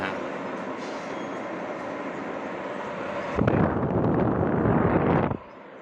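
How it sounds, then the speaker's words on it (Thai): An Amway air purifier switched into turbo mode at maximum airflow whooshes with a steady rushing hum, then surges louder for about two seconds before dropping back off. "อันนี้คือโหมดเทอร์โบครับผม แรงดันลมที่จะสูงสุดนะครับ"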